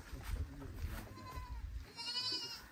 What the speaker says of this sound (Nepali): हाम्रो बाख्राहरू आज भोकै छ कि क्या हो